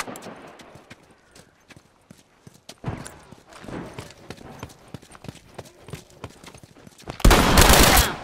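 Scattered gunfire in the video game The Last of Us: sharp shots cracking at irregular intervals, some in quick clusters, ending in a loud, sustained roar of fire over the final second.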